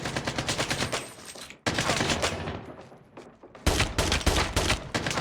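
Rapid gunfire rattles in Call of Duty, dense bursts of shots in three loud stretches separated by brief gaps, with a voice barely present underneath.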